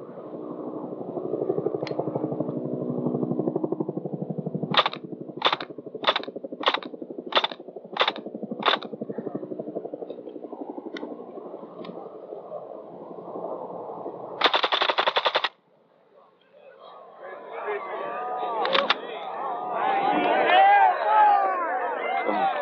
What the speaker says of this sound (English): I'll fire this a few shots in the semi-automatic mode and then go to full automatic on it.